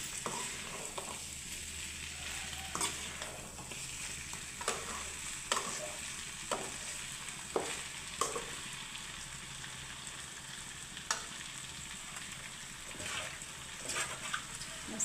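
Chicken curry fries in a pan with a steady soft sizzle, broken by repeated scraping and clinking of a spoon as it is stirred.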